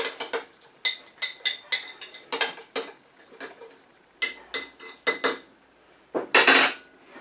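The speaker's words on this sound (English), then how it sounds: "Okay, I'm going to give this a stir." Dried German chamomile being stirred in 40% drinking alcohol inside a container, giving a rhythmic series of close clinks and scrapes with a brief louder rattle near the end, no voices.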